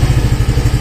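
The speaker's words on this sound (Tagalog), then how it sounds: "pag inon po natin itong ating makina" A motorcycle engine switched on and running close by, a low, steady putter of rapid rhythmic thumps with a faint clatter and no voices over it.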